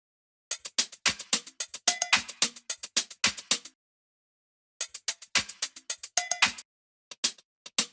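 Two hi-hat loops for a nu disco track play in short bursts of crisp, rapid ticking strokes, bright and dry with a steady groove, stopping for a beat and then returning, with no talk.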